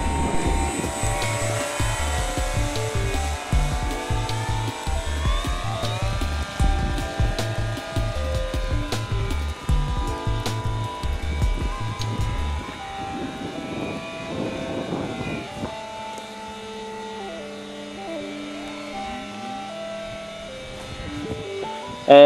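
Electric model aircraft known as the BoomBox flying at full throttle, a steady layered motor and propeller drone with shifting pitch, holding strong for about fifteen seconds before thinning to a lighter tonal whine.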